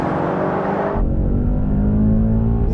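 A Mercedes-AMG E63 S pulls away hard in a drag race, a loud close engine roar that drops into a deeper, steady rumble as it speeds off.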